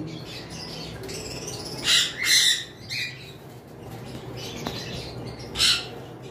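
Lutino opaline red-eyed lovebirds give several sharp squawks and chirps over a steady background hum, the calls close and scattered.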